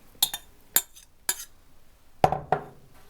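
Chopped cabbage being tipped into a salad bowl, heard as a handful of sharp, close clinks and knocks against the bowl, with a brief rustling slide of the pieces.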